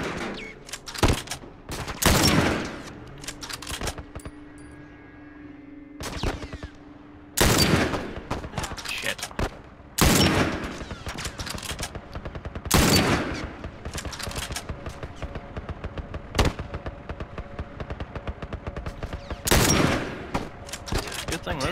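Gunfire from the video game The Last of Us, aimed at a vehicle's tires: loud close bursts of automatic fire come in repeated volleys with short pauses between them, and a voice talks faintly in the gaps.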